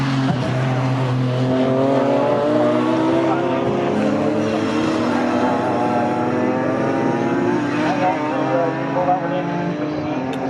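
A BMW race car in a club championship at Snetterton circuit roars loudly and steadily on track, its engine note holding a strong droning pitch that shifts slightly as it changes gear, with a commentator talking over it.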